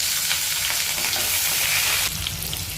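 Chopped onion and a few cloves of garlic frying in a pan of hot oil for jute leaf dal, a steady, loud, close sizzle throughout with a slight shift near the end.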